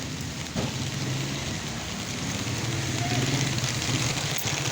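Heavy typhoon rain pours down steadily and loudly close by, a dense continuous hiss with a brief thump near the start.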